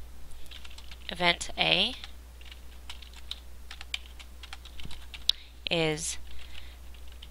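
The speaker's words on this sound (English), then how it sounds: "I'm going to go ahead and kind of type that up for you guys." Computer keyboard typing in steady bursts of quick clicks throughout, with a voice talking over it at times.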